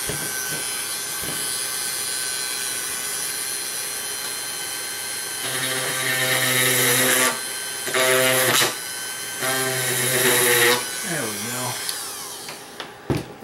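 A rotary engraving tool spinning at 5,000 RPM cuts a divot into an IBM Model M keyboard part, giving loud whining bursts that start and stop in several short passes.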